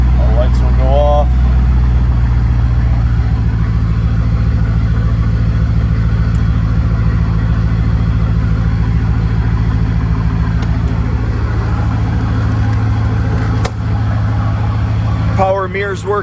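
A 2004 Chevy Corvette Coupe engine runs close and loud, a steady deep rumble holding throughout with brief voice sounds at the start and end.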